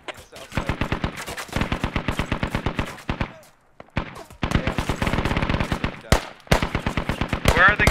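Gunfire in the military shooter game Squad: long rapid bursts of machine-gun fire, loud and close, broken by a short pause, then more sustained bursts, with a voice faintly present near the end.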